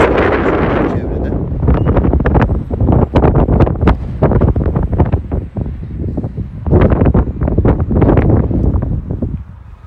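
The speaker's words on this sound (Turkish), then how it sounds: "Hava çok rüzgarlı." Heavy wind buffeting the microphone outdoors in Didim, Turkey, in loud, rumbling gusts that rise and fall throughout, with a voice partly buried beneath it.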